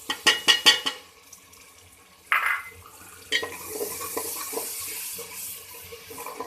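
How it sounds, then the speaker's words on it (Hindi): Tomato puree tipped into a pan of cooking onions for aloo keema, then stirred. A few sharp clinks of a utensil come first, followed by a wet splash and a steady scraping stir close by. "अब साथ ही हम इसमें टमाटो की जो प्योरी हमने बनाई है वो डाल देंगे"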